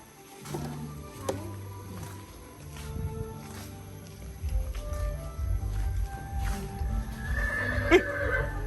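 A horse neighs and whinnies at an indoor attraction, with a long, wavering call rising and falling over a background of low hum, soft clatter and distant movement, moderately near.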